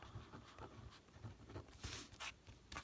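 A pen with a fine nib, around 0.5, writes on stationery paper in steady, close scratchy strokes with soft rhythmic patter, quiet and alone without talk.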